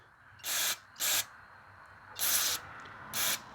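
Ryobi pressure washer with a Honda GCV190 engine, old fuel left in it, fires four short, loud hissing bursts of water spray, separated by brief gaps over a quiet background.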